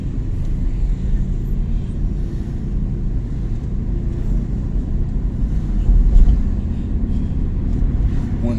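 A car drives along a city street, heard from inside as a steady, loud low engine and road rumble with a slight swell partway through, no talk.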